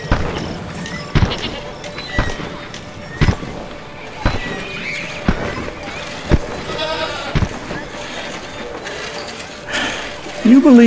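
Goats bleating in the Homefront video game, a few brief cries among regular sharp thumps and game ambience, with people talking over them.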